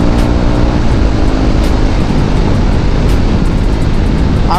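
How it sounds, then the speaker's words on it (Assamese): A KTM Duke motorcycle engine held under load during clutchless gear shifts, a loud, continuous roaring drone with rushing wind noise and no clear breaks, close and dominant throughout. "আৰু ডিউকত মানে মই ক্লাছলেছ শ্বিফটিং কৰি একদম বেষ্ট পাওঁ"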